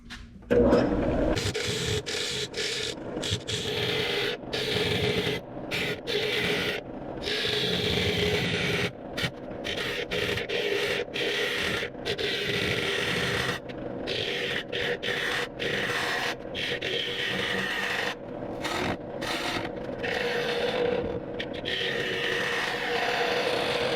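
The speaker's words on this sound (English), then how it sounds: "So now we're gonna turn the lathe back on." A wood lathe turns a large bowl made of wood and resin, giving a steady rubbing, rasping tool noise that continues loud and close throughout, with brief gaps where the cut pauses.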